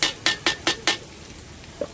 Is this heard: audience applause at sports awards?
no